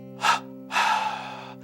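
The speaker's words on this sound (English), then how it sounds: "double exhale" Yogic breathing with a sharp double exhale, then a longer, strong breath forced through an open throat from the diaphragm, close and alone against a faint steady hum.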